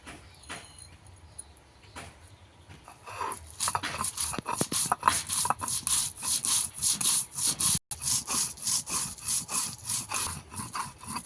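Cumin, coriander and black pepper are ground on a grinding stone by hand: after a few scattered scrapes, a rhythmic back-and-forth rasping of stone on stone settles into a steady quick beat, close and fairly loud, with no talking.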